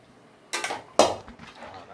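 Boiled country chicken tipped into a metal kadai for biryani makes two sharp clanks and scrapes against the pan, followed by softer shuffling, close by and with no talk.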